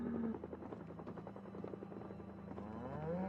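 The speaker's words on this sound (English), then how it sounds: "I hear a helicopter and I don't want to be outside." A helicopter passes overhead in the Project Zomboid video game, its rhythmic rotor chop and engine whine steady and moderately close for a few seconds, with no voices.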